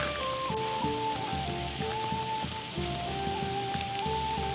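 Steady rain falls across an outdoor graveyard in Glasgow, a dense continuous patter of drops on surfaces, fairly close and even throughout, with background music-like tones running underneath.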